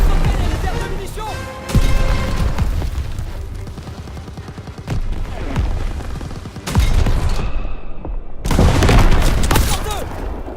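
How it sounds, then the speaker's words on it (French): Ammunition reserves blown up in the World War II shooter Call of Duty WWII: heavy booming blasts and rattling gunfire in dense layers, with a couple of big explosive surges and voices shouting over the battle. "Fais sauter les réserves de munitions!"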